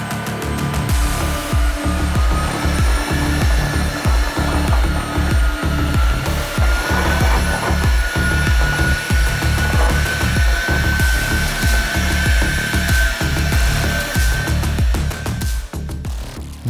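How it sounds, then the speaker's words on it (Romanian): A Tineco S6 Flash Dry Pet wet and dry vacuum cleaner runs loud and close with a steady motor roar and rhythmic scrubbing pulses, continuous for the whole stretch with no talk. "aspiratorul ăsta știe să tragă de toate. Atât uscat, cât și umed, cât și ud, nu contează"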